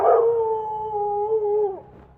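A dog at a gate lets out one long, sustained howl-like whine, loud and close, holding a steady pitch for nearly two seconds before dropping off abruptly.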